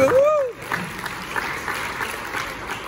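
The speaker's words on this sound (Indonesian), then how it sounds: "Ya, tepuk tangan buat Pak Irwan." Congregation applauding at a church pastor conference, a steady moderate clapping texture that starts right after a brief sung or spoken tone and continues evenly to the end.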